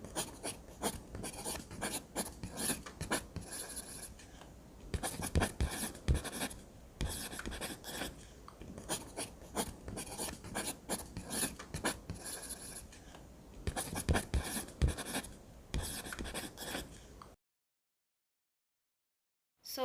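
A pen writing on paper in a record book, steady scratchy strokes in short bursts with brief pauses, close and alone, ending in a moment of silence.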